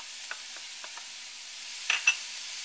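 Onion, apple, raisins and dried cranberries sizzle softly in a pan under a steady hiss, with a few light scrapes and two sharper clinks of a spoon stirring near the end.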